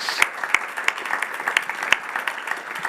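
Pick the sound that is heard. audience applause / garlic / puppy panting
audience applause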